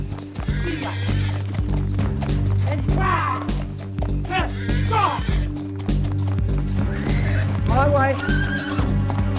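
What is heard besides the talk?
wild stallion neighing and hooves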